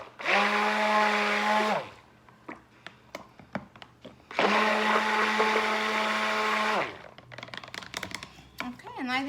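A blender or mixer runs loud and steady through two long bursts while mixing red soap colorant, with clatter, taps and brief rustling between them.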